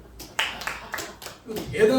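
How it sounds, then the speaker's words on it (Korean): A few people in a church gathering clap in a short burst of sharp, uneven claps at moderate volume, followed by a brief murmur of voices. "야 박수 한번 쳐야 되겠다."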